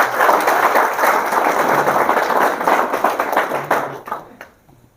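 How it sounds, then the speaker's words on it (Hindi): Audience applause at a lecture on the Gita and Quran, a dense burst of many hands clapping that stays loud, then thins out and fades to near silence at the end. "तालियां बजनी चाहिए भाई।"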